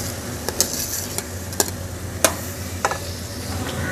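Urad dal stirred into a frying tomato masala gives a continuous loud sizzle with a run of sharp spoon taps and scrapes against the pot at an uneven pace.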